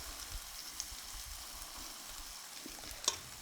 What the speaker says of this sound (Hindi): अब हम गैस के फ्लेम को बिल्कुल लो करेंगे और इस तरह से हम अपने बैटर को डालेंगे